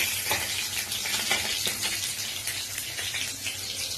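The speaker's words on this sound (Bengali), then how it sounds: "এইভাবে লাল করে ভাজবেন" Rohu fish pieces frying in hot oil in a Bengali kitchen, a dense, steady crackling sizzle close up with light spatter bursts, no voices.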